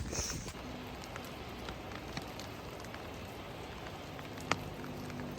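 Steady rain falls along the Appalachian Trail in cold weather, a dense even hiss of drops on surfaces with occasional sharper drips close by.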